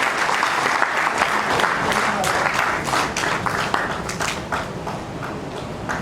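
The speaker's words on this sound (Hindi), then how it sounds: "आप सभी की तालियां बजती रहनी चाहिए।" A crowd claps steadily through a state-level felicitation ceremony for nurses and teachers, the applause dense and sustained before thinning slightly toward the end.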